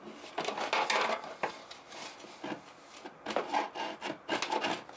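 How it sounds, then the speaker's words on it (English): Hand chisel carving into wood, a series of close scraping and rasping strokes in irregular bursts with short gaps between cuts; no talking. "Please make sure to chisel away from yourself at all times."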